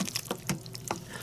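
Water poured into an Instant Pot for tortellini soup splashes in a few short, uneven gushes and drips, close and moderately loud, with no voices.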